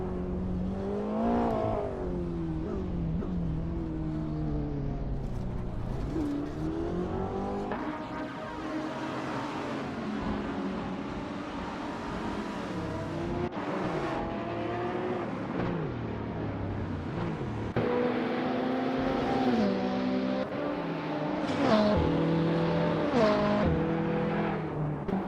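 Supercars race around the Seattle circuit in a racing video game, engines whining and revving steadily with rising and falling pitch as gears shift, occasional passing cars and tire noise layered over a continuous mechanical drone.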